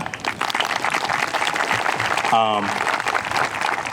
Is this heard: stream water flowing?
no